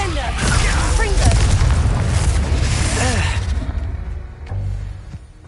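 Spell blasts from Hogwarts Legacy played on PS5: loud, rumbling booms and bursts with whooshing tails, a dense barrage for several seconds before easing into quieter rumbles and one last thud.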